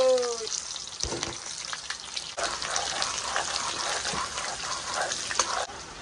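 Chopped onions frying in a pan for a soybean curry, a steady loud sizzle that swells after a clatter as they hit the hot oil, with brief talk at the start.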